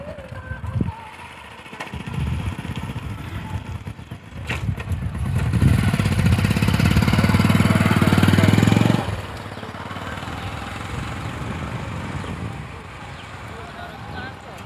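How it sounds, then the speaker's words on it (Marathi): Motorcycles pass along a road, an engine note swelling as one approaches and peaks nearby before fading, with someone talking over the traffic. "बघा मोटरसायकल कसे येतात काय ते"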